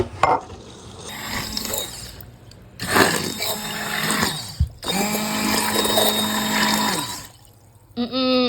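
A new blender jar holding water whirs loudly at close range in two long runs, starting and stopping with brief pauses between. A short whine follows at the end.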